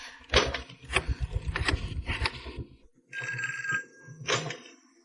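An old-style telephone bell rings in several rapid metallic bursts with short pauses between, close and clear.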